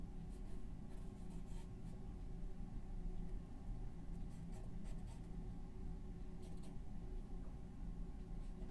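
Brush or pencil sketching on canvas during an oil painting session, soft scratchy strokes repeating over a faint steady background hum, quiet and close.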